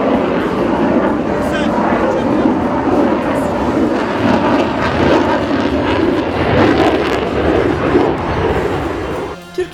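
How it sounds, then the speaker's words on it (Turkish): A Russian Su-35 fighter jet flies overhead at a Teknofest air show, its continuous, heavy engine roar steady and loud, with a crowd murmuring faintly underneath. "gökyüzüyle buluşan Rus savaş uçağı Su-35 yaptığı inanılmaz"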